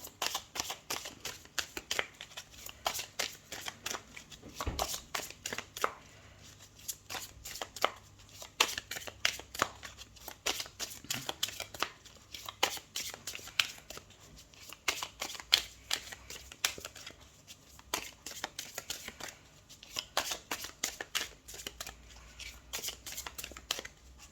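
Tarot cards being shuffled before a reading, quick crisp riffles and flicks coming in rapid bursts with short pauses, close and fairly quiet, with no talking.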